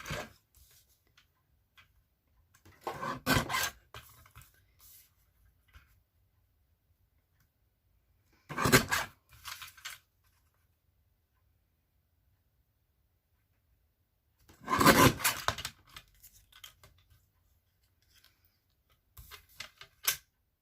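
Paper being trimmed for a handmade Stampin' Up card, heard as a few short bursts of cutting and clicking spaced several seconds apart, close and fairly quiet with near silence in between.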